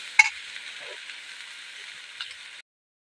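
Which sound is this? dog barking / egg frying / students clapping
egg frying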